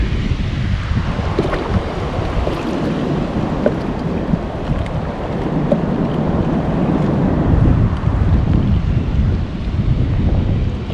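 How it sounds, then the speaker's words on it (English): Big ocean swells surge against and spill over the Long Beach break wall, a loud, continuous roar of churning surf and rushing water mixed with heavy wind buffeting close to the microphone, with no voices. "as the swells, they get really huge now. They'll just spill right over the wall."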